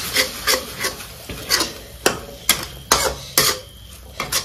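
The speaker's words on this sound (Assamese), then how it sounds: "এই দৈখিনি দি লৈ লগে ভাজিম" A spatula scrapes rhythmically through pork and yogurt being stir-fried in a pan over a gas flame, each rasping stroke close and distinct, roughly two per second, with no one speaking.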